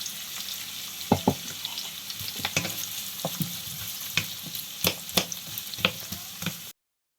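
Onions and chilli sautéing in a pan, a steady sizzle broken by repeated sharp scraping and stirring clicks from a utensil, fairly close, with no voices, ending abruptly.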